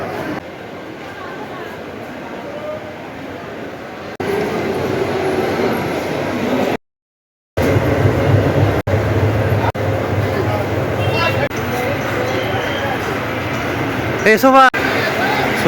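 Teesta Torsa Express at a busy railway platform: steady rolling train noise and clatter, a sharp dropout, then a rising squeal of wheels near the end, all under ongoing station chatter and voices.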